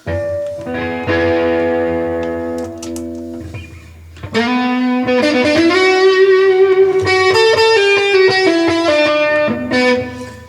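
An electric guitar through a Boss OD-200 pedal on its X Metal setting plays heavily distorted sustained chords, pauses briefly, then continues with ringing chords and bent lead notes, loud and saturated.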